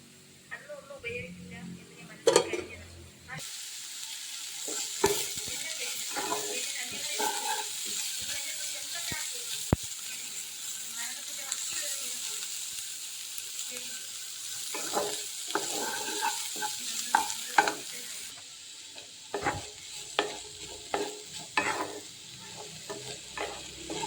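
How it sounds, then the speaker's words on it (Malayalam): Vegetables sautéing in a pan for fried rice, with a steady sizzle and hiss running throughout, broken by repeated clinks and scrapes of stirring, and a voice talking over it in places. "ഫ്രൈഡ് റൈസാണ് വെക്കുന്നത് അപ്പോൾ അതിനുള്ള പച്ചക്കറി വഴറ്റുക"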